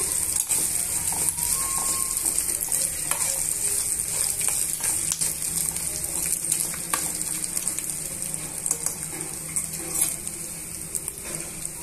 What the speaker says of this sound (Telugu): తరిగి పెట్టుకున్న ఉల్లిపాయ ముక్కలను కూడా యాడ్ చేసుకోవాలి। ఇవన్నీ బాగా వేయించేసుకోవాలండి।